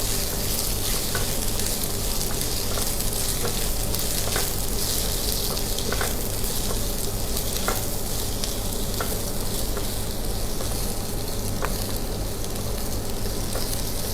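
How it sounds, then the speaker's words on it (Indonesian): Snow peas and green beans stir-frying in a pan, a loud, dense and unbroken sizzle close up, with faint periodic ticks of the utensil moving the vegetables. "Ini tumis kapri sama buncisnya dahulu."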